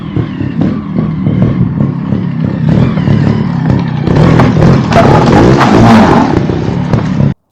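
A GasGas TXT 300 trials motorcycle on a backyard obstacle course barks through quick throttle blips, its engine revving hard and close in sharp bursts that build to a louder clattering roar before cutting off abruptly.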